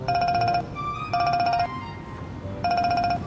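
A phone ringtone sounds nearby in three repeated electronic bursts with short gaps between them, heard over low background noise.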